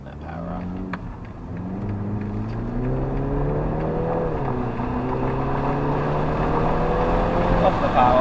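A police car on a driving course accelerates hard, its engine note climbing in steady rising harmonics over several seconds, loud and close, with an instructor talking over it.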